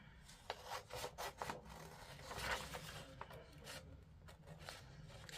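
Scissors cut a shape out of a sheet of paper with a series of quiet, close rasping snips and rustles, with no voices.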